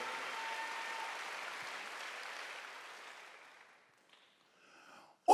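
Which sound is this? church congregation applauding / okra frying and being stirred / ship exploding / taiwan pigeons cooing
church congregation applauding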